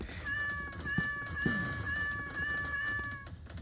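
Cartoonish cat meows in the video game Deltarune, a long sustained tonal meow holding steady for a few seconds, with two short chirpy mews popping up partway through, all fairly close and clear.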